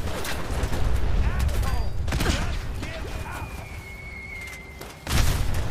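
Bombs go off in the video game Fallout 4 as a series of deep booming blasts and thuds, the loudest burst near the end, mixed with game sounds and a voice talking over them.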